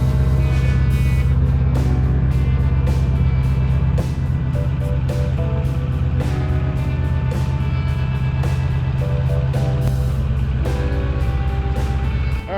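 A Ford 6.4 Powerstroke diesel truck engine idling, a steady loud low rumble with a constant drone and occasional small clanks, running alone without talk.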